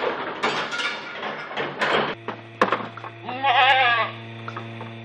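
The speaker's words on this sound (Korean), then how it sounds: "농장에는 현재 45마리의 거미 염소가 있다." Genetically modified spider goats on a research farm bleat in a long quavering call after some scattered knocks and rustles, with a steady background hum.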